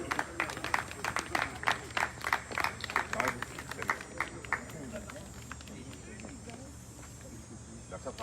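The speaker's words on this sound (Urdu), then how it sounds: "تالیوں سے استقبال کیجیے اس بچی کا." Scattered clapping from a small outdoor crowd at a Pakistan Independence Day gathering, greeting a girl carrying the national flag; uneven claps come in bursts for about four seconds, then thin out into low background murmur.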